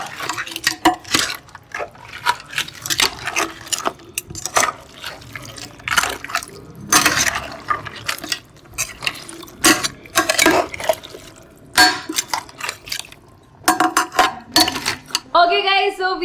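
Crabs being mixed with masala and coconut milk in a pot, giving wet stirring, scraping and clinking of utensil against the pot in irregular bursts, with a voice talking intermittently over the cooking.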